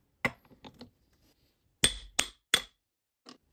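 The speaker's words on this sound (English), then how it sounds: "I like to place the molds down on the vise and go to town with the hammer" A hammer strikes injection molds held on a vise several times, sharp metallic knocks in two separate bursts with brief pauses, ending with one lighter tap.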